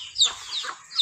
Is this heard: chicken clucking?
yes